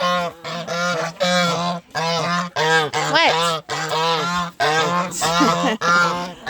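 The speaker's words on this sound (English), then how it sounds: "Those two geese" Geese honk loudly and almost continuously at close range, repeated harsh calls from a small flock kept on a property, with a person's brief spoken word mixed in.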